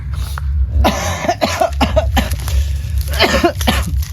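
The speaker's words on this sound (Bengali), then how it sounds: "কাশিটা রিয়েল কাশি কিন্তু।" A person coughs close up in a series of harsh, rough bursts that come in quick clusters, loud and alone.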